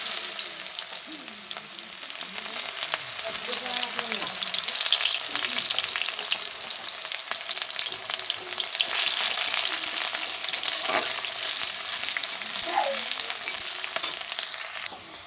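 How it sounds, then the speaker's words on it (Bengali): Onions frying in a pan with two dried red chillies as they turn brown, giving a steady, close sizzle with occasional stirring scrapes throughout, no talking. "পেঁয়াজটা মোটামুটি ব্রাউন মতো হয়ে গেছে, ভাজা ভাজা হয়ে গেছে"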